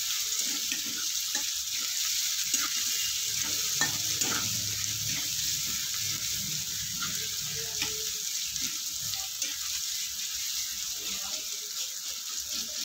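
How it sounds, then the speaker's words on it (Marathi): Onion fries in a pan for dal tadka, an even hissing sizzle with soft intermittent stirring, close and steady throughout without talk. "तर ह्याला आपण 2-3 मिनिट चांगला फ्राय करून घेऊया"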